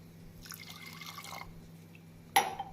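Water poured from a tumbler onto toor dal lentils in a pot for sambar, a soft trickling splash for about a second followed by quiet and a sharp metallic clink near the end.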